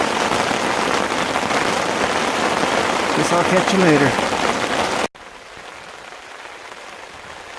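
Rain falling steadily on a tarp at a backcountry campsite on a lake trail, a dense hiss under a brief spoken remark, then cutting off abruptly to a quieter patter.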